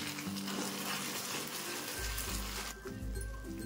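Jaggery mixture cooked down with a spoonful of ghee in a pan for a sweet, a close continuous sizzle with stirring and scraping, a deeper bubbling rumble rising partway through.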